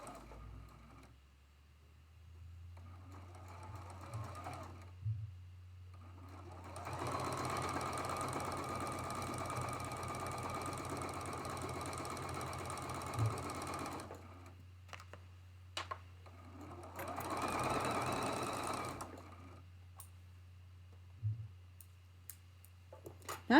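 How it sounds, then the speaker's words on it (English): A sewing machine stitches a quarter-inch seam on a traditional Grandmother's Cross quilt block, running in two steady whirring bursts with quiet pauses and small clicks between them. "Let's get it lined up, and we'll sew that one."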